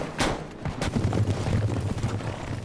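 Several sharp gunshot bursts crack out early on in an action film scene, followed by rumbling low booms and continuous battle noise, fairly loud and dense.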